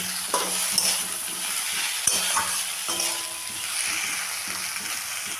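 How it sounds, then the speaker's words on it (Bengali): A spatula scrapes and stirs cabbage with mustard-poppy paste and shrimp in a sizzling frying pan, with repeated rhythmic strokes over a steady frying hiss. "এবার ভালো করে মিশিয়ে নেব"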